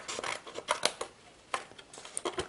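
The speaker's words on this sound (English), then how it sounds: "You can cut this off with a pair of scissors." Scissors snip through paper, trimming an uneven edge in a crafting project. A quick run of close, crisp cuts comes in irregular bursts, with no talking.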